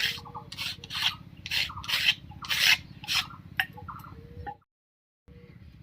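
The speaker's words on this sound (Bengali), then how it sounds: "একটুখানি আতপ চাল বেটে নিচ্ছি" Soaked raw aatop rice is ground into paste by hand, a close, rhythmic rasping scrub repeating roughly every half second for several seconds before stopping, then a faint low hum.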